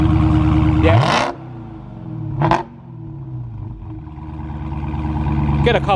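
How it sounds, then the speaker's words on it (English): A Dodge Charger Hellcat on its stock exhaust revs hard in two loud bursts, each falling back with a few popping crackles, then the idle slowly swells again toward the end. "Get a couple crackles out of it stock,"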